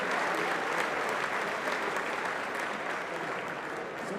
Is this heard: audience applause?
yes